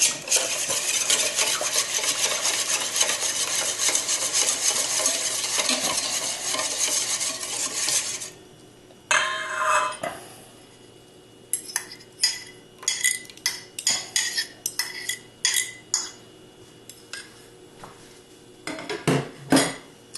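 A chocolate and cognac mixture stirred into heavy cream in a bowl, a dense, continuous scraping swirl at first, then scattered light clinks and taps of the utensil against the dish.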